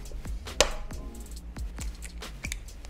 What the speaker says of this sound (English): I'm going to cut my banana.